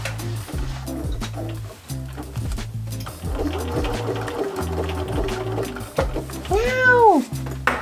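Sewing machine stitching a small zigzag at the corners of an opening on a thrifted leopard-print vest, rapid rhythmic close-up clatter with a cat meowing near the end.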